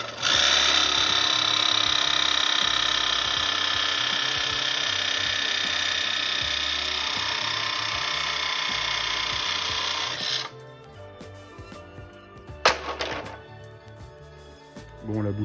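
A jigsaw buzzes loudly and steadily, cutting a front splitter blade for a Lotus Elise S2 Rover, running close for about ten seconds before stopping, followed by quieter handling noises and a brief sharp clatter.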